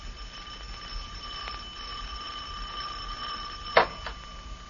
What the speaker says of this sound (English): Don't you ever answer the doorbell?